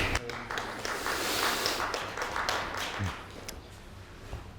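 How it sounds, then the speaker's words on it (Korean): An audience at a university forum on climate change and the energy industry applauds, a steady wash of many hands clapping that stays level for several seconds, then thins slightly. "박수로."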